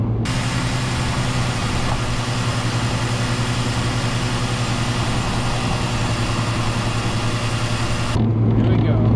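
A Mazda RX7 FC3S accelerates, its engine a steady, loud, dense roar heard from inside the car, holding continuous and unbroken throughout.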